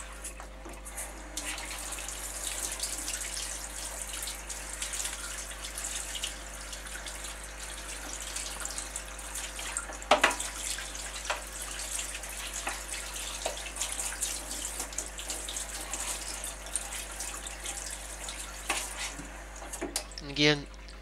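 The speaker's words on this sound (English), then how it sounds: "Wash it down some nice cold tap water to get the excess salt and vinegar off of" Cold tap water runs steadily over a skinned rabbit being rinsed of salt and vinegar, a continuous splashing hiss with occasional louder drips and clunks, close by.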